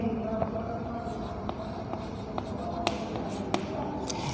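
Pen scratching out a math solution on paper, with a steady soft scratchy bed and a few sharp taps as strokes land, close and moderately quiet, no talking.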